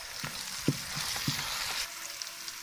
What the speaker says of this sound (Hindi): प्याज को ब्राउन कर लेंगे अच्छी तरह।